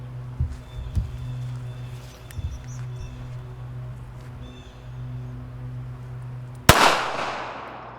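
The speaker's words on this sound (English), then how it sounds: "Phyllis, we've lost the magazine for this one, so you're gonna be a single shot on this one." A single pistol shot cracks loud and close near the end, its sharp report trailing off with a ringing decay over a steady low hum and a few faint knocks.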